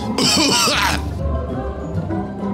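A short burst of coughing or throat clearing, loud and close, followed by quieter background noise.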